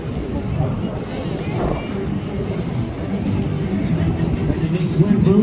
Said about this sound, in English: Again, the P-38.